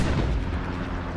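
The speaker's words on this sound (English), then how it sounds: "Axis artillery is active" Artillery rumbles through a night battle in the game Hell Let Loose, a loud deep boom that rolls away into a low, fading roar.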